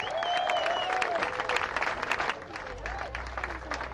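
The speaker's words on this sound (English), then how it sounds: "So let's give Northeast LA a big round of applause." Outdoor crowd at a Highland Park parklet ribbon-cutting in Northeast Los Angeles claps in a moderate burst, with whistles and cheers rising over it, easing toward the end as a low rumble enters.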